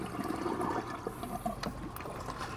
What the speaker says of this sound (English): And we'll go ahead and kick off the siphon.